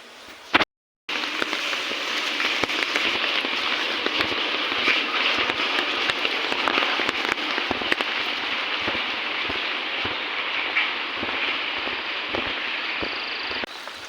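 Continuous pattering of rain on an umbrella, with dense crackling drops and sharp taps close by, steady throughout after a brief silent gap at the start.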